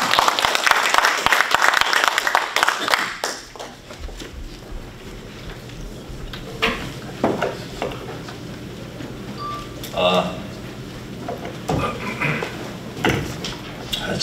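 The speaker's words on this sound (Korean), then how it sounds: "멋져보시면 박수쳐도 됩니다." Audience at a Korean community sports association fundraising night applauds loudly for a few seconds, then the clapping gives way to scattered knocks, shuffles and room noise with faint talk.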